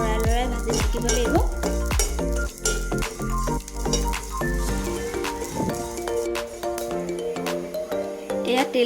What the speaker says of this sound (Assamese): তিলকেইটা এনেকৈ লৰাই লৰাই ভাজি থাকিব লাগিব